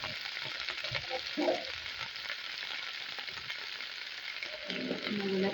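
Mixed vegetables with broccoli and carrot stir-fried in a pan, giving a steady soft sizzle with a few clattering stirs, close and fairly quiet with no talking.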